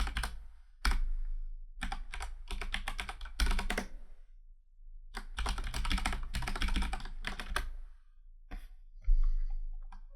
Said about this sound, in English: if we type the administrator username and password